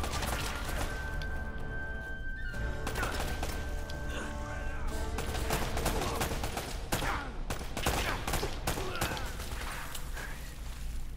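Gunfire in the video game Uncharted: The Nathan Drake Collection, with dense volleys of shots, crashes and impacts crowding a busy combat mix, steady and fairly loud throughout without a clear pause.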